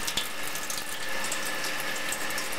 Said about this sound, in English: just fill it up with water until it's almost to the top